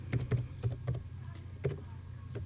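Typing on a computer keyboard, a close run of several sharp key taps in uneven rhythm, a quick cluster early on, then sparser strokes, with no talk.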